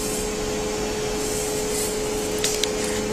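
Steady broadband suction hiss with a constant tonal hum from a weight loss vacuum machine, running continuously at a fixed level, with a couple of brief clicks near the end as a handle is worked.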